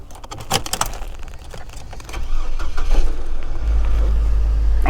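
Salvage car at an auto auction yard, with peeling taped-on chrome and oversized 32-inch wheels, its engine catching after some clicks and knocks and then running at a loud, steady low idle close by.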